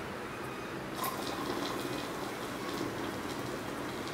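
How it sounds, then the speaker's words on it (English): 7-Up soda is poured slowly into a glass while making a green mango panna drink, giving a steady, continuous liquid stream with fizzing throughout, close and moderately loud with no talking. "And when you're pouring 7-Up,"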